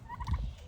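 A turkey on a backyard farm lets out a brief, fairly faint gobble close by, a quick warbling burst with no talk over it.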